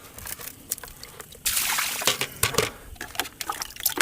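Water trickles and splashes into an insulated duck water bucket during filling, a soft uneven pouring with a louder gush partway through, close and alone without talk.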